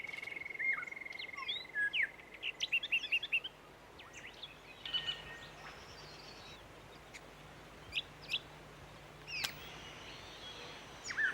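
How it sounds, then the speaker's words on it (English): A laughing kookaburra calls in the Australian wild, a rapid series of pulsing chuckling notes early on followed by scattered shorter calls against a quiet natural background. "This species is literally known as the laughing kookaburra"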